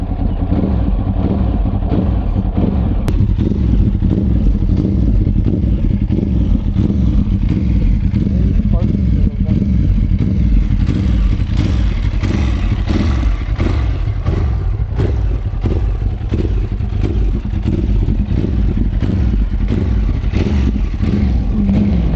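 A motorcycle engine idles and revs close by while warming up before a ride, a steady loud mechanical drone with repeated throttle blips.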